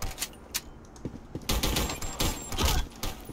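Gunfire in the online shooter Black Squad comes in rapid bursts, loud and close, with sharp cracks at first and then a denser sustained volley, with no talking.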